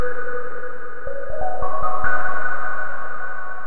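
A sustained synthesizer tone from UVI Falcon stepping upward in a few quick pitch changes, with soft clicks, then holding a steady bright drone.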